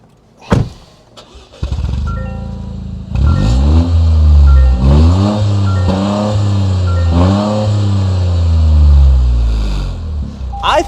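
Toyota GR Corolla with a three-port rear exhaust starts up loudly after a few clicks, then revs repeatedly in rising and falling sweeps before settling into a steady, deep idle.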